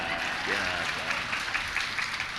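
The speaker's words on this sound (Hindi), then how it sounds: "अब बजाओ तालियां" An audience at a Jain religious discourse claps together in a dense, steady burst lasting a couple of seconds, with a voice faintly audible beneath it.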